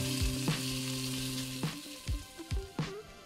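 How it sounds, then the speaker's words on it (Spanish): Rice fries in a hot pan for Mexican red rice, a steady crackling sizzle throughout with a few louder clatters and scrapes as it is stirred, close and without talk. "En lo que se está friendo nuestro arroz"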